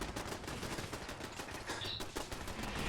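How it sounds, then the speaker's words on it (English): Artillery shells pound synths in the video game Fallout 4, a dense rapid barrage of cracking blasts and rumbling impacts that continues without pause. "called down some artillery upon some synths"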